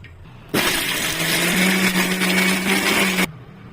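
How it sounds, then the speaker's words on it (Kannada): A kitchen mixer grinder coarsely grinds tempering ingredients with a little water, a loud steady whirring motor running for nearly three seconds before stopping abruptly. "ಇದನ್ನ ಒಗ್ಗರಣೆನ ಮಿಕ್ಸಿಗೆ ಹಾಕ್ಬಿಟ್ಟು ನೀಟಾಗಿ ರುಬ್ಕೊಂಬಿಡಿ ಇದಕ್ಕೆ ಸ್ವಲ್ಪ ಸ್ವಲ್ಪ ನೀರು ಹಾಕೊಂಡ್ಬಿಟ್ಟು ತರಿ ತರಿಯಾಗಿ ರುಬ್ಕೊಳ್ಬೇಕು ನಾವು"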